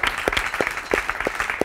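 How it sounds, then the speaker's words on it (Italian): Audience applause at an Italian talk event honouring a Paralympic swimmer: a continuous wash of clapping, with a few louder individual claps standing out at regular intervals. "facciamole un applauso, un saluto, complimenti a Giulia, brava,"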